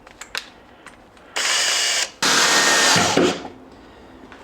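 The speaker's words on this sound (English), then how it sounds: "I'm going to screw it in" A power drill driving screws into wood whirs in two short bursts, the second longer and slowing at the end, with light clicks and handling noises before it.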